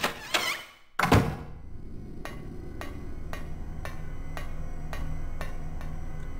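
A locked door in Silent Hill gives two heavy rattling thunks close up, followed by a steady ticking like a clock in a quiet room.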